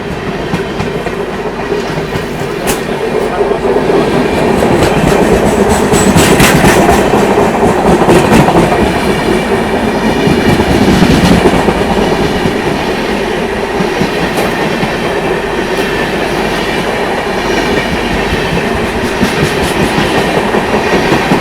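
Visakha Express passenger train running on the line, a loud steady rumble with continuous clickety-clack of wheels over rail joints heard from onboard, no talking.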